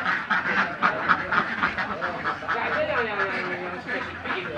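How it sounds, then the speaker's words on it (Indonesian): A flock of egg-laying ducks on a farm quacks in a busy, overlapping chorus, close and fairly loud, with rapid repeated calls and a few longer drawn-out notes. "itik kering ini adalah itik petelur"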